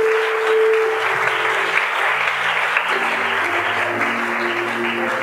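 A church congregation applauding during a sermon, sustained clapping from many hands filling the room, steady and moderately loud, with a faint voice or tone held beneath it.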